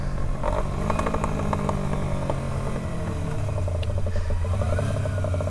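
A 250cc or 300cc motorcycle rides through a neighborhood, its engine puttering and droning steadily up close with slight changes in revs and wind rumble throughout.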